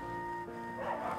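Dogs kept indoors on a rainy day in a muddy kennel give a short burst of barks and yips, fairly close, with a faint voice underneath.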